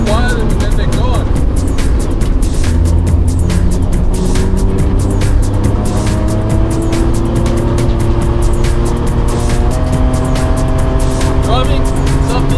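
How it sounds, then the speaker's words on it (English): Small homebuilt car driven at over 150 km/h, a loud, close engine drone climbing steadily in pitch through the gears under heavy wind rush, with a voice talking over it. "Driving something this small over 150 kilometers an hour is a little bit different."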